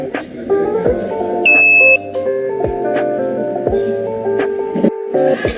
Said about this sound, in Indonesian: Tunggu hingga buzzer berbunyi dan LED menyala.